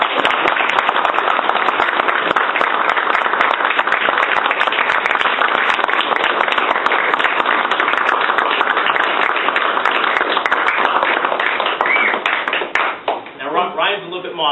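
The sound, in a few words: audience applause for Ryan Dixon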